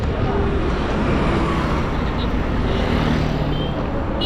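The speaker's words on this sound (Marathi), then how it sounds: "खालनं हा एक्सप्रेस हायवे चाललाय, मुंबई पुणे एक्सप्रेस हायवे" Traffic on the Mumbai-Pune Expressway below the viewpoint gives a steady, broadband road roar of cars and heavier vehicles. It holds at an even level throughout with no clear passes standing out.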